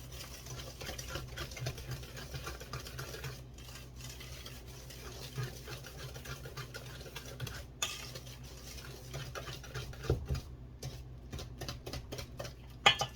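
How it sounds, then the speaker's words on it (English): Granulated sugar whisked into banana bread batter, a close rhythmic scraping and ticking of a whisk against the bowl with a few louder knocks. "Get that a nice whisk and get that incorporated"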